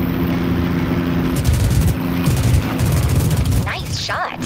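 Gunfire during an aerial dogfight in the UltraWings 2 flight game, rapid bursts of shots and booms over droning engine noise, with someone talking and laughing in the background.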